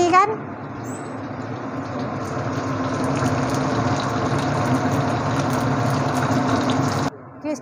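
An engine starts and settles into a steady idle, a continuous droning rumble with a faint pulsing texture that runs for several seconds before cutting off abruptly.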